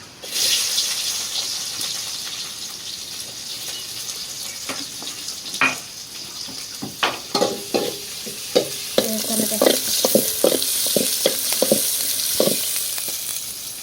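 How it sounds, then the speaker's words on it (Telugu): Chopped onion drops into hot oil and fries with a loud hiss, followed by a run of sharp spatula scrapes and clacks against the pan as it is stirred. "ఆయిల్ అయితే కాంగిపోయింది ఎర్రగడ్డ వేసుకోవాలి"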